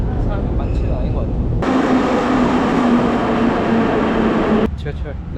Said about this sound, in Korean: 지금은 다시 이제 지하철 타고 마슈오카타는 곳까지 갈 생각입니다